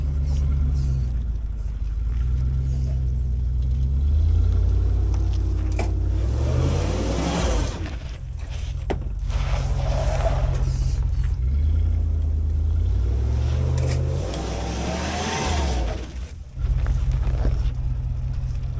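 Land Rover Discovery engine pulling off-road in locked four-wheel drive with the transfer case differential locked, a deep steady rumble rising and falling as it revs and climbs, close and continuous throughout.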